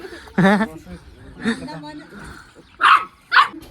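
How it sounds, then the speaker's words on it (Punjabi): A dog gives a few short, close barks in between people talking and laughing nearby. "ਲੈ ਮਿੱਤਰ ਤੁਹਾਨੂੰ ਹੁਣ ਕੁੱਤੀ ਹਰਕਾ ਕੇ ਦਿਖਾਉਣਾ"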